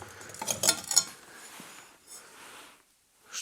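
Old dishes clinking in an abandoned manor, a few light, bright clinks and scrapes of crockery close by, quiet overall and fading into near silence.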